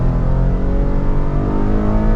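A 2023 GMC Acadia Denali AWD V6 accelerates in sport mode, a steady, loud engine drone heard from inside the cabin with no talking.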